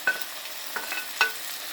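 Food frying in a pan in a home kitchen, with a steady soft sizzle and three sharper scraping clinks as it is stirred, close by and with no talking.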